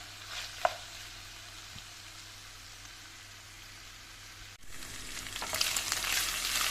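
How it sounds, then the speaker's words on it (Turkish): Onions and meat sauté in a pan with a faint, quiet sizzle, a small clink early on, then the frying grows louder and brighter toward the end. "Bir miktar kavuralım. Soğanlarımız yumuşasın."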